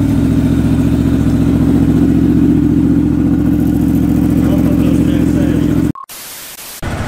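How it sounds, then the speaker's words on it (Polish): A Yamaha R125 motorcycle with its stock exhaust revs steadily with a loud, mid-pitched drone, then cuts out abruptly near the end, followed by a brief electronic tone. "No i mamy seryjny wydech oczywiście. Nie zmieniałem go, więc no brzmi erka taką."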